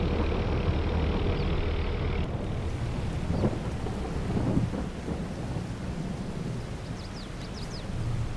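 Rain and thunder in the farming game Farming Simulator 22, a steady dense rain hiss with low rolling rumbles and a faint vehicle engine underneath, no voices.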